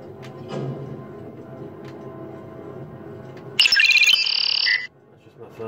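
A mobile phone rings with a bright electronic tone in a short loud burst, cutting in over a quieter background of video game sounds and then stopping abruptly.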